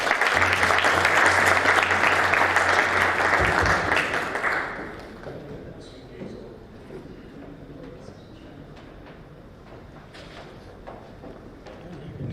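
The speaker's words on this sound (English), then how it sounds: "Please, everyone, give a round of applause." Audience at a conference event gives a round of applause, dense clapping for about four seconds that fades out, followed by quieter room sound and a voice speaking.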